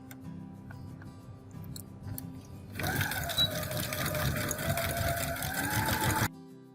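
Sewing machine stitching through the layers of a finger-thumb pot holder, a steady close whirring run of about three and a half seconds after quieter handling sounds, stopping abruptly.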